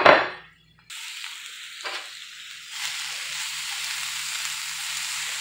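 Onions tipped into a hot pan of vegan sausage and potatoes over gas, a brief loud clatter, then a steady moderate sizzle that swells slightly as it settles, with no voices.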